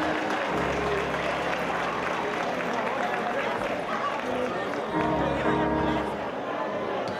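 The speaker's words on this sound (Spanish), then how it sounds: "Fuerte aplauso para Alex, por favor" An audience applauds at a live salsa performance downtown, a sustained wash of clapping and crowd noise with voices babbling throughout, swelling again toward the end.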